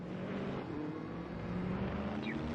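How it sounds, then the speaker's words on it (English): A yellow Porsche RUF race car drives down a straightaway, its engine a steady, droning roar that holds close and even throughout without a break. "The yellow Porsche makes some headway down the straightaway Corvette."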